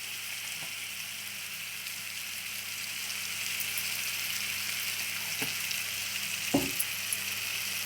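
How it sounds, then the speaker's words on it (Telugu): Dried prawn curry with tomato, onion and turmeric sizzles quietly in a frying pan, a steady soft hiss with a few faint scrapes of a spoon stirring. "మళ్ళీ మిక్సింగ్ మిక్సింగ్ మిక్సింగ్."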